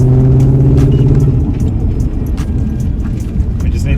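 A Toyota Soarer / Lexus SC400 driving on new wheels during a brake test, a loud low engine and road rumble heard from inside the cabin, with a strong low hum at first that eases while the rumble steadies.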